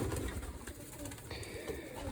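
Young pigeons coo softly in their loft, low murmuring calls close by amid a busy, rustling background, with a faint voice mixed in.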